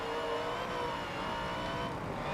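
A race car engine in Forza Motorsport 7 holding high revs on a final corner, a steady loud whine with a faint edge of tire noise.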